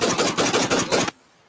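A rapid burst of about six gunshots in quick succession, loud and close, then abrupt silence.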